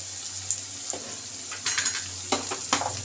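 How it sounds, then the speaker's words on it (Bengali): Chilli chicken frying in a pan with onion and capsicum, a steady sizzle running throughout with several scraping stirs of a spatula against the pan, close and fairly loud. "আর একটু ভেজে নেব।"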